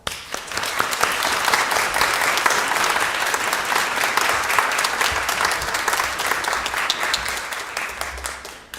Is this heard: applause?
yes